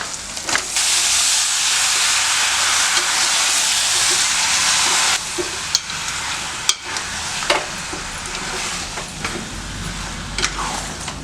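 Mutton sautéing in oil inside a pressure cooker gives a loud, hissing sizzle for about five seconds, then settles into a softer fry broken by sharp clicks of stirring.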